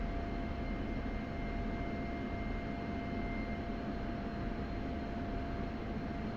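Aircraft engine running steadily in the DCS World flight simulator, a constant droning hum with a faint whine, at an even level throughout.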